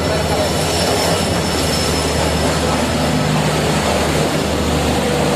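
A passenger train passing directly underneath a raised vantage point at Mariani Railway Junction, a loud steady continuous rumble and roar with rattling wheels that fills the whole stretch without letting up.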